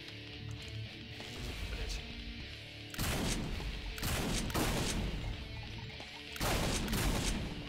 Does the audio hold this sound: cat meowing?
no